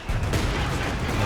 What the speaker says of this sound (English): Whoa, double mortars?